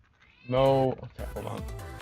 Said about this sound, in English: Real life cat is distracting me from Cat Planet.